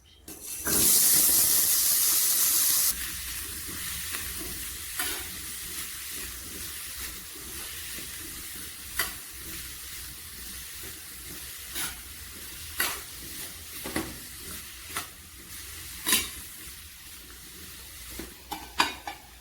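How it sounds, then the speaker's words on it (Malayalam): Steady sizzling of chopped cucumber frying in hot oil in a pan, with a loud hiss at the start and sharp scraping clicks of a spoon stirring at irregular intervals. "ചീനിച്ചട്ടി ചൂടാകുമ്പോൾ ഒരു സ്പൂൺ എണ്ണയൊഴിച്ച് അരിഞ്ഞ വെള്ളരി ഇട്ട് ഇളക്കാം"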